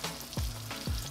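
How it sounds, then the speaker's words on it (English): Oxtails brown in butter and olive oil with a steady frying sizzle, broken by two low swooping thumps as pieces shift in the pan, close and moderately loud, with no speech. "Start browning our oxtails on both sides."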